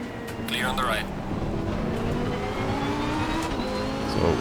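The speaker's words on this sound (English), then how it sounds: "I'm driving the Lamborghini Huracan GT3 Evo." A Lamborghini Huracan GT3 Evo race car in Assetto Corsa Competizione on a wet track, its engine revving and shifting up through the gears with a steady, close roar and rising whine, with some voice beneath it.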